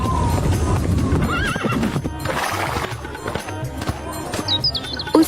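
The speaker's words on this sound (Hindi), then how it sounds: "घोड़ी दूसरे डाकू के यहाँ गई" A mare's hooves clip-clop steadily close by, and loud neighing and whinnying rise over them, with faint chirps near the end.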